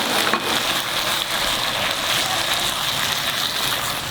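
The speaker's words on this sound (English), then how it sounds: "now I'm gonna mix everything well together" Bamboo shoots and chicken in a seasoned stir fry are tossed and mixed in a pan, giving a continuous close sizzle with a wet, crackling hiss and soft scraping.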